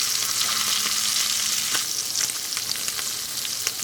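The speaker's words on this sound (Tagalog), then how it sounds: "Kaagad nagbo-brown. Kaya dapat mabilisan lang po yung pagprito." Pork slices frying in a pan for pork asado, a loud, close, continuous sizzle with bright crackling pops growing busier toward the end.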